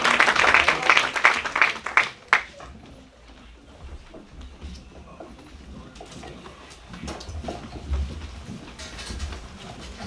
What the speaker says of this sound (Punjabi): ਤਾੜੀਆਂ ਨਾਲ ਸਵਾਗਤ ਕਰੋ